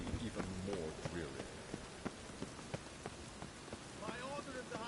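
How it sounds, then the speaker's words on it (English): Steady rain falls across a city in a video game, a dense patter with scattered sharper drips and splashes, while voices speak intermittently over it at the start and near the end. "Rain makes this city even more dreary."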